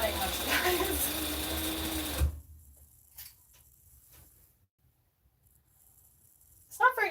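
A home sewing machine runs in a steady buzzing stitch for about two seconds, then stops, leaving near silence with a few faint clicks and a brief noise at the end.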